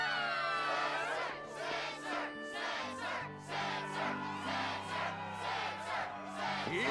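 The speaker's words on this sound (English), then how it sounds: "Yes, the crowd is fired up" Crowd noise from the Kingdom Hearts 2 video game, with a stadium audience cheering and chanting in a steady pulsing rhythm of repeated rhythmic shouts, heard alone and fairly loud throughout.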